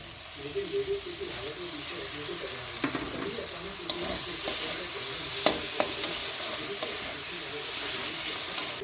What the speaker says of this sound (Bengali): এইভাবে মশলাটা অনেকক্ষণ ধরে কষিয়ে নিতে হবে